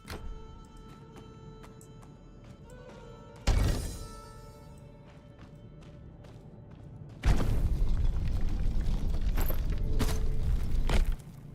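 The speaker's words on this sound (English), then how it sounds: "So it just makes a bigger, more damaging explosion." Fragmentation explosions in the video game Titan Quest 2: a sharp booming burst, then a longer sustained blast of noise with scattered clicks, over a steady game-music bed.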